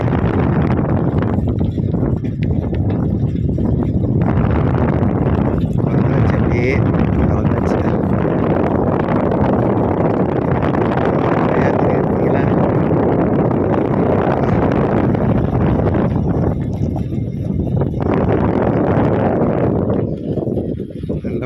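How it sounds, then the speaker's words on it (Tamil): Strong, steady wind in Saudi Arabia buffets the microphone with a loud, continuous roar and gusty rumble throughout, with no break. "ஆனால் காற்று பயங்கரமாக அடிக்குது"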